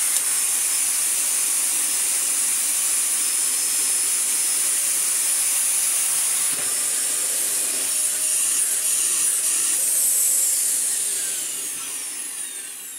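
A Dyson DC41 upright vacuum cleaner running steadily at close range, a loud continuous high-pitched whine and airy hiss that holds level throughout, fading slightly near the end.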